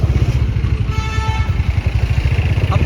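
A motorcycle engine runs close by with a rapid, throbbing low putter and some mechanical clatter, loud and steady with no speech.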